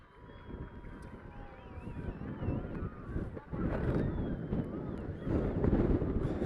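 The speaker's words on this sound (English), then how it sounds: "The wind is picking up." Strong gusting wind buffets the microphone at an outdoor stadium during a boys' high school soccer game, a loud continuous roar with low rumbling swells that grow stronger toward the end.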